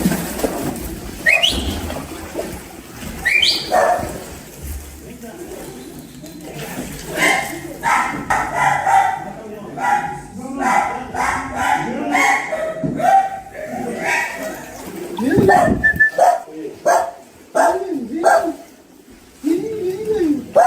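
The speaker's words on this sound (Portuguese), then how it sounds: "Esse que o cachorro tá latindo." A dog barks repeatedly in quick irregular bursts near a stairway during a flood rescue in Rio Grande do Sul, loud and close, mixed with whimpers and yips while several people talk and call out nearby.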